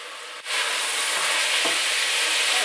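Bacon frying and being stirred in a pan for homemade peas, a steady close sizzle filling the whole stretch after a brief scrape and thump, with no talk.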